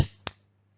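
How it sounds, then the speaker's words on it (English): Two hand claps mark the syllables of the word monkey, a loud first clap followed a quarter second later by a softer second one, close and isolated in a quiet room. "we'll get our learners to clap it so it sounds something like this"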